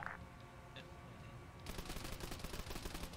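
Video game gunfire in a squad-based sci-fi shooter: after a stretch of low background noise, rapid sustained automatic fire breaks out as a steady, fairly faint rattling stream.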